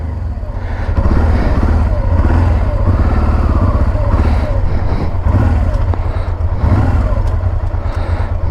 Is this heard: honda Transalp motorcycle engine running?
yes